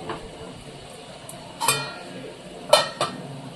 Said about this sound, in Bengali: এটা আমি ঢেকে দেব।